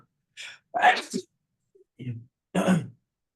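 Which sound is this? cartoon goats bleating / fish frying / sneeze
sneeze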